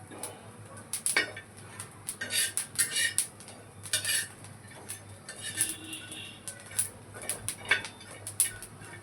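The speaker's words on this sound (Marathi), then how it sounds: "हे बघा आपण खोबरं भाजत आहे" Grated coconut dry-roasts in a pan while a spatula scrapes and clinks against the metal in quiet, irregular strokes over a soft background, with no talking.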